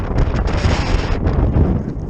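Strong wind gusting across an exposed moorland edge in rain, buffeting the microphone with a steady, loud roar throughout.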